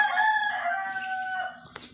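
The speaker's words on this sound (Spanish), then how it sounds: "Canta gallo mañanero con tu criolla melodía" A rooster crows in the morning in Venezuela, one long, loud, near call with wavering harmonics that trails off after about a second and a half.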